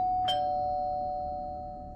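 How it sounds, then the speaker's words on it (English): A doorbell rings once at a home's front door. A single bright chime strikes near the start and then rings on as a steady tone that slowly fades over two seconds, with no voices. "After a few minutes, the doorbell rang again."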